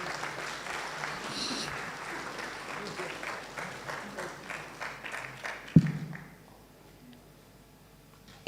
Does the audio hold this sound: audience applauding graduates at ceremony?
yes